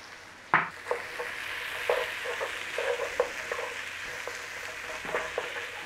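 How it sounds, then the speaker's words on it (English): Tomato paste cooks with onion in a pan over a steady low flame for marinara sauce, giving a soft sizzle with intermittent spoon scrapes and light taps against the pan, close and fairly quiet. "Start to cook it in there"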